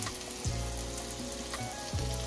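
Salmon cakes made with fresh salmon fry in hot oil in a pan, giving a steady close sizzle with occasional louder pops.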